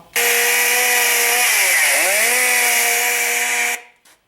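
A loud recorded chainsaw buzz from a Halloween prop's speakers starts abruptly, holds a steady harsh whine with a short revving dip midway, then stops, followed by a faint click.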